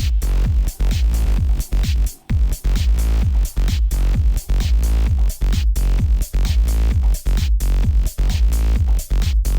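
Dance record being faded in over a repeating outro loop in an Ableton Live DJ mix, loud continuous electronic music with a steady pounding kick and rhythmic drops in level, no voices.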